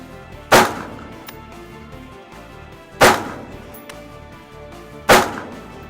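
Three sharp gunshots at an army shooting range, spaced a couple of seconds apart, each a loud crack with a short decay over a steady outdoor background.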